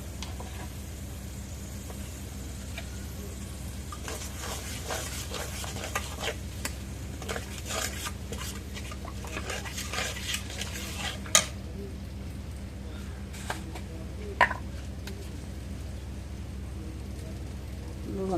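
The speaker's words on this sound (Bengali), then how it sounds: "এখন মশলাটা কষানি হয়েছে" Garlic, cumin and onion paste masala is stirred in a pan, with faint sizzling under repeated scraping and clinks of a spoon against metal, fairly quiet throughout with no speech.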